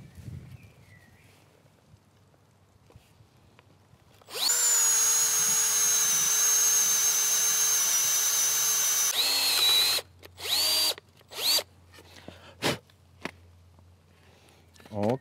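A power drill bores the second hole for a homemade perennial plant support, a loud steady whine running for about five seconds, then several shorter bursts as the trigger is pulsed. There is no talk during the drilling.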